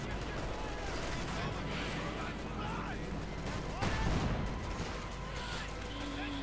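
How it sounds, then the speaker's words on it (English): Browning automatic rifle fire in the Company of Heroes 2 strategy game, dense crackling gunfire and battle noise mixed with distant blasts, under a commentator talking. "Ostrom being sawed apart here by the BARs"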